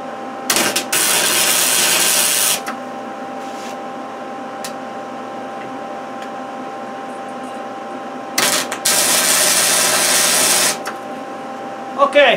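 An arc welder tack-welds a cigarette butt disposal holder, giving two loud, steady buzzing bursts of about two seconds each, separated by a quiet hum, close by.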